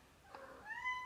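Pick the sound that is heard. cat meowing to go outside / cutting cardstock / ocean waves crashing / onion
cat meowing to go outside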